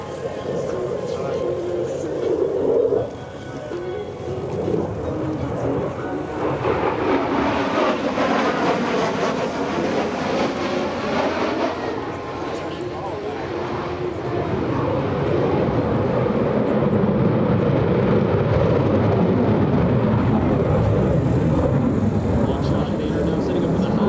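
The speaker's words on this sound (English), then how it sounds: "from the right, the Super Hornet inverted whisper pass." An F/A-18F Super Hornet makes an inverted whisper pass at the EAA AirVenture 2025 air show. A broad, rumbling jet roar swells and lingers at a distance under announcer commentary over the loudspeakers.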